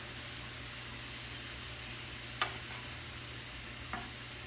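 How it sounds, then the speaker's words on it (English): Greens and onions fry in a pan set from high to medium heat, a faint steady sizzle and hiss broken by a couple of sharp scraping clicks from stirring. "Just mix the onions among them."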